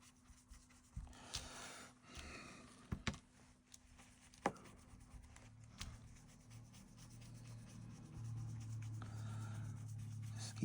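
A brush blending distress oxide ink over a stencil on card, quiet scratchy rubbing strokes in irregular bursts with soft taps, close and faint, building to a steadier swishing near the end.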